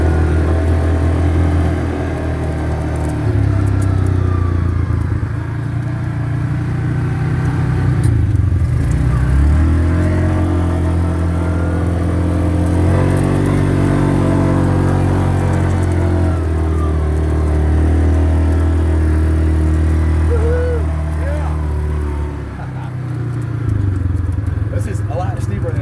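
Ural sidecar motorcycle rigs with extra fuel tanks, a spare tire and luggage labour up a hill climb, engines droning and rising in pitch, loud and sustained, with people talking over the rumble.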